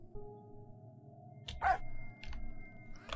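A guide dog barks in the Ian's Eyes game: one short, sharp bark, with a fainter yip after it, over a quiet humming indoor ambience.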